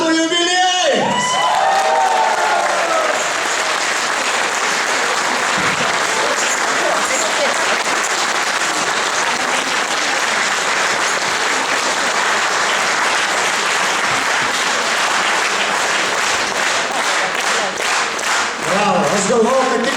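An audience at a traditional Lithuanian folk music festival claps in a long, dense, steady round of applause with a few cheers and whoops, loud and close, with voices briefly heard at the start and end.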